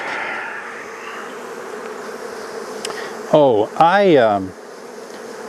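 A thick, steady buzz of honey bees swarming over a hive frame fills the whole stretch, close by, while a person briefly speaks midway over the droning.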